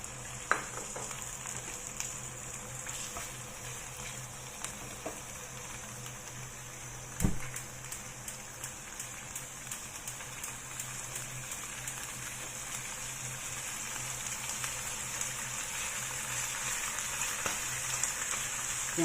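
Chicken liver and chili fry in a pan, a quiet, continuous sizzle dotted with small pops and crackles, one sharper pop near the middle, and a slight swell toward the end.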